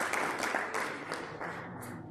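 Steady applause fills a gala dinner hall as guests clap for PROTEC at its 40th anniversary celebration, a dense, moderately loud wash of many hands with a few brighter claps standing out.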